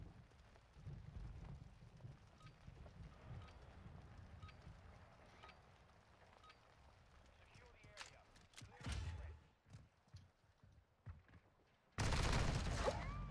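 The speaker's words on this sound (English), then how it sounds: "I didn't realize this was an auto weapon." Automatic weapon fire in a video game: rapid bursts crackle over a low rumbling background, then a loud, dense barrage closes the clip.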